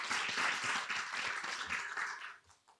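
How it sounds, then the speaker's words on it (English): A room full of people at a food security conference in an auditorium applauds steadily for a couple of seconds, then the clapping trails off. "they deserve a round of applause"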